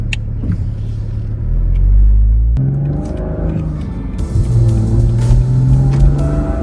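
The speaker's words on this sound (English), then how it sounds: "want to show you how it sounds from the inside of the car. This is top down, so you get to hear that B58 just a little bit more." Cabin view of a BMW Z4 M40i roadster with its B58 engine and the top down: a deep, loud engine rumble that swells as it accelerates, eases off, then builds again with rising revs, no talking.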